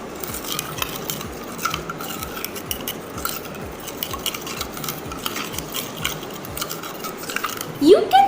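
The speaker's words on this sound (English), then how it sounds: "and stir it well" A spoon stirs a turmeric solution in a small container, scraping and clinking in a quick, regular rhythm of light taps, fairly close and moderately loud, ending with a brief higher scrape.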